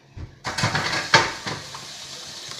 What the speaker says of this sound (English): Plonk her on the plate.